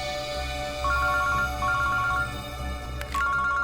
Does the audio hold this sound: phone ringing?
yes